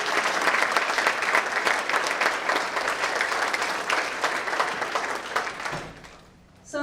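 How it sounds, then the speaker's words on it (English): An audience at a women's panel event breaks into loud, sustained applause that fades out over the final second, after which a voice starts speaking. "So let's have a big round of applause."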